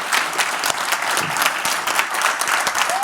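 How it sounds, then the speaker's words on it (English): Audience at a talk on legalizing cannabis in Ireland breaks into steady applause, many hands clapping together, dense and continuous at moderate loudness. "big round of applause"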